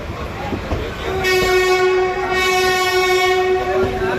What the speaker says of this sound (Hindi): ट्रेन को हॉल कर रहा है WAG5।